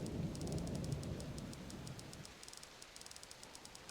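Rain in the survival game Subsistence: a dense, steady hiss of falling rain with low rumbling, easing slightly midway as a faint repeating ticking pattern sits high above it.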